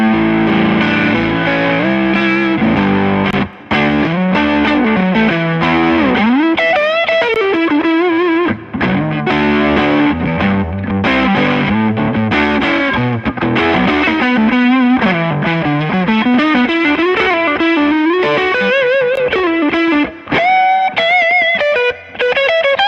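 A heavily distorted electric guitar plays a sustained, gritty melodic line, loud and alone, with brief breaks between phrases.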